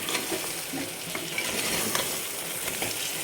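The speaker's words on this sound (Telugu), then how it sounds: "ఎంత తిప్పితే అంత మంచిగా వస్తుందండి కూర" Mutton curry being stirred in a frying pan, oil sizzling steadily underneath as a utensil scrapes and turns the meat, with soft irregular scraping knocks over a constant hiss, close up and with no talking.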